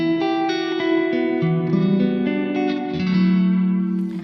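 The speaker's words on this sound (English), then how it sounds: "the first one is just a simple room reverb that's more subtle and shorter" Sustained electric guitar notes ring through a subtle, short room reverb from a Hologram Microcosm pedal, with the chords overlapping and decaying smoothly, loud and close.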